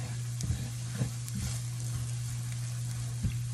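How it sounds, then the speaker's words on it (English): Sausage is stirred around a frying pan for biscuits and gravy, a low continuous sizzle broken by soft periodic scrapes of the utensil, close by and fairly quiet. "And I'm just going to add it on top of the sausage. Just going to give that a good mix around."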